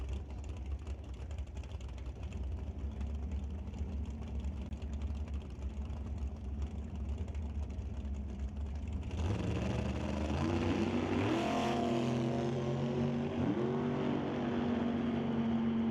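A Super Gas Mustang drag race car at a drag strip idles with a low engine rumble, then loudly revs and pulls away, its exhaust note rising and shifting through gears as it runs.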